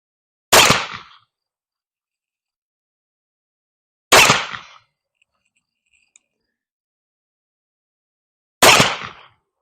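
A Leech & Rigdon cap and ball revolver firing conical bullets, three loud, sharp shots spaced several seconds apart, each cracking sharply and decaying quickly into near silence between them.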